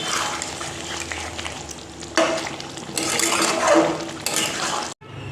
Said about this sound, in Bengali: তো মশলাটা দিয়ে এবার ভালো করে কষাবো যতক্ষণ না তেলটা সেপারেট হচ্ছে